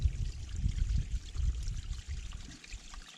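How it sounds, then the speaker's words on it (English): Water trickling and splashing down over rocks beside the Appalachian Trail, a steady close babbling stream sound with gentle bursts, alone without voices. "this water right here, while running down rocks"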